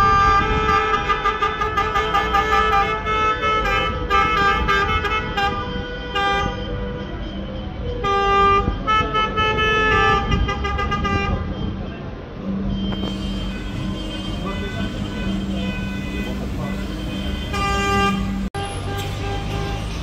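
Car horns honk repeatedly in a campaign vehicle convoy, with long and short blasts overlapping loudly amid passing traffic noise, and voices heard under the horns.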